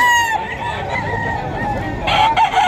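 A White Kelso gamefowl rooster crows close by at a busy pet market, a loud drawn-out call answered by another crow near the end over steady crowd murmur.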